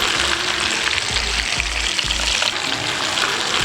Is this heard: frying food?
yes